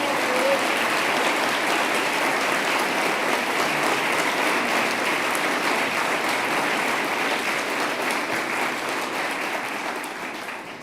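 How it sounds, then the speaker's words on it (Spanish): Sustained audience applause for Federico Sturzenegger at a public address, a dense, steady roar of clapping from a large crowd that holds strong throughout and begins fading at the very end. "quiero pedir un aplauso especial para el capitán de navío que hizo todo esto posible, el coloso Federico Sturzenegger"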